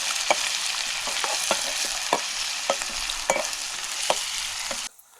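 Onions sizzle in a hot pan while a utensil stirs and scrapes with sharp, irregular clicks; the frying cuts off abruptly near the end.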